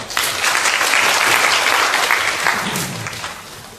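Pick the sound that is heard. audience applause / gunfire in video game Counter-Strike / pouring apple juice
audience applause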